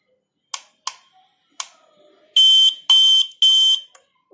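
An LPG/PNG gas leak detector for the home is button-tested: three short, sharp clicks, then three loud, shrill electronic alarm beeps in an even pulse, close and alone.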